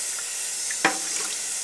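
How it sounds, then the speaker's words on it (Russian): Fresh, heavily chlorinated water runs steadily from a kitchen tap into a sink where dishes are being washed, a continuous close hiss with one brief splash partway through and no voices. "Это бежит свежая вода с крана."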